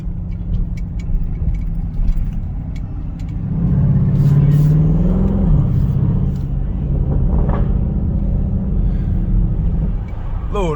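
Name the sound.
Dodge Durango SRT 392 engine rumble while cruising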